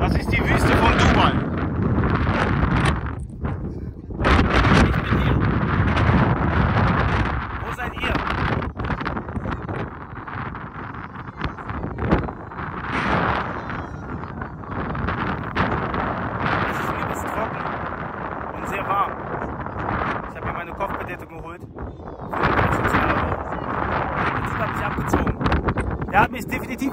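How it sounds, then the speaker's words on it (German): Strong, very hot wind in the Dubai desert roars and buffets the microphone in gusts, with a voice talking loudly over the rushing noise throughout. "Es peitscht ein sehr heißer Wind umher."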